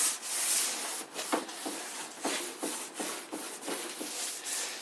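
An old painted wooden kitchen dresser is hand-sanded in steady, repeated rasping strokes, each rub rising and falling in an even rhythm, close and fairly quiet with no voices.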